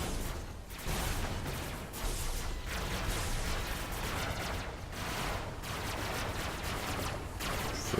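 Sustained SMG fire in the Robocraft robot-battle game, a dense, loud, continuous rattle of rapid shots that runs without pause, with only brief dips in intensity.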